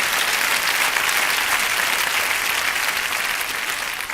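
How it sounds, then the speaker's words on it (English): Sustained, dense applause from an audience at a motivational talk, steady and full throughout before easing slightly at the end, with no voices over it. "Give me a round of applause right quick, all right?"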